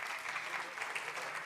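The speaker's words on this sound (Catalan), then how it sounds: "Aplaudiment." Audience applause at a cooking session given by the chef of a Barcelona restaurant, steady and dense clapping from a crowd, filling the short moment on its own.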